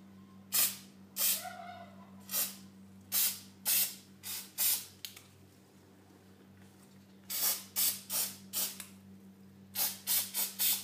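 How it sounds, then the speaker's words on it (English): K&N filter oil sprayed from an aerosol can onto a K&N air filter during cleaning: a series of short, sharp hissing bursts in uneven rhythm, close and clear against a faint steady hum, with no talking. "now we'll spray it with KNN oil."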